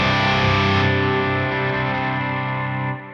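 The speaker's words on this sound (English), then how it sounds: "Scene 2, overdrive and gain comes on." Electric guitar with overdrive and gain engaged, a single sustained distorted chord ringing loudly and decaying slowly, close and alone.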